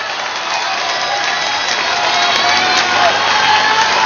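A large outdoor crowd at a street-side political rally at Shinjuku Station's west exit applauds and cheers for candidate Shinzo Abe, a loud continuous roar of clapping with shouts mixed in.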